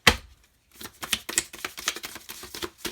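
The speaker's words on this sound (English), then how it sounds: "These aren't difficult to shuffle, these cards" Large, thin oracle cards riffle and slap together in a quick run of crisp papery bursts, close and fairly loud, after a brief pause at the start.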